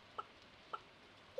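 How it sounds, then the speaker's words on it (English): Chickens in a farming video game give two short, soft clucks about half a second apart, faint and isolated against a quiet hiss. "All our chickens are pretty much happy,"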